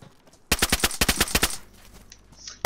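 Rapid burst of automatic gunfire in a video game firefight, about ten loud close shots in quick succession, then a quieter tail of ambient game noise.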